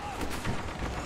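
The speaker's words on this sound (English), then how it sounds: "Vehicle turret. Fire!" Vehicle turret in Star Wars Battlefront firing heavy blasts, a couple of booming shots over dense battle noise, loud and close.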